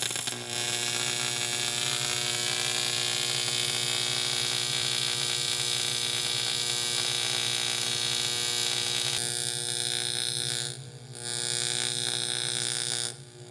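A TIG welding arc on aluminum with a tungsten electrode at 96 amps gives a quiet, steady electric buzz, briefly cutting out near the end and then restarting before a final stop.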